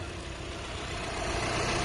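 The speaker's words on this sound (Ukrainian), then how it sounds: "Двигунчик працює ідеально просто, ніде нічого не рипить, не шкрипить." A 2016 Mercedes-Benz Sprinter refrigerated van's 2-litre, 160-horsepower diesel idles in a steady, even low rumble throughout, heard close with no voices.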